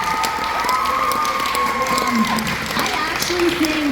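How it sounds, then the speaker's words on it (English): A high school jazz band holiday concert audience applauds a teacher, clapping and cheering continuously under a steady hum of crowd noise, with voices heard over the clapping. "let's all give Mr. Hill a round of applause here too"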